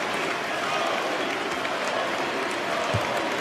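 A basketball arena crowd at Fiserv Forum rises and applauds continuously in honor of Kobe Bryant before a Bucks game, a dense, even wash of clapping and cheering that fills the whole space.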